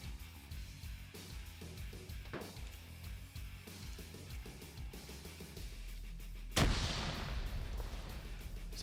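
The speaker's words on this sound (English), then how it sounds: "So some grenades going in" Grenades going off in a Wargames PvP match: constant gunfire and muffled thumps, then one sharp, loud burst near the end with a brief bright crack and rumbling decay.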